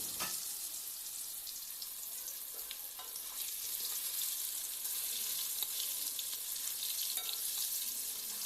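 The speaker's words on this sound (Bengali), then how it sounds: "তারপর দেখো এখন গরম তেলের মধ্যে এগুলোকে একটু ভেজে নিচ্ছে।" Potatoes coated in salt and turmeric fry in hot oil, giving a steady, continuous sizzle with a crackling hiss that runs close and even throughout, with no voices.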